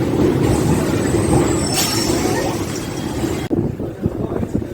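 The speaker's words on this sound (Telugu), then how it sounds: "ఈ ట్రైన్ ఫైనల్ డెస్టినేషన్కి చేరుకుంది కాచిగూడ" Train No. 07595 from Nizamabad rolls into Kacheguda station with a loud, steady rumble of wheels and carriages and a thin high squeal of wheels on rail, then the noise drops abruptly to quieter clanks near the end.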